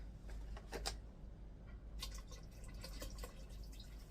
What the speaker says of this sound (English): Let's get some more water in here.